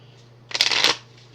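A short, crisp riffle of playing cards being shuffled, a quick burst lasting under half a second against a quiet background.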